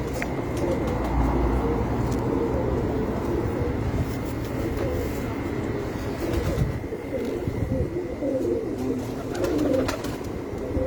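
Pigeons coo softly and continuously in a low, rolling murmur, with rustling and a steady background hum.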